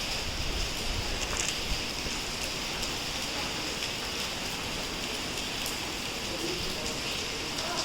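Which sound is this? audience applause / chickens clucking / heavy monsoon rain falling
heavy monsoon rain falling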